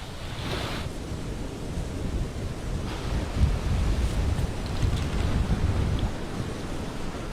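Sea waves on the Haiti coast by a seaside villa: continuous surf wash and wind buffeting the microphone, fairly loud and steady with swelling pushes of breaking water, no voices.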